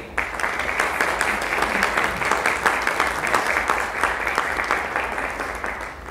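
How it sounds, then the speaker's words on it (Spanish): Audience applause at a panel debate on the environment, a steady dense wash of many hands clapping throughout, fairly loud and close, with no talk over it. "Un aplauso, por favor"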